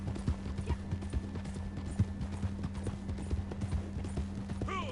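A horse in a wild west video game clip-clops at a brisk gallop, its hooves beating rapidly and evenly up close, with a short neigh near the end.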